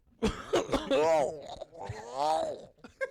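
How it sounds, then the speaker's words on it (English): Someone clears their throat and coughs, with several harsh rasping bursts and groaning vocal sounds close to the microphone. "Clear your throat there, boy."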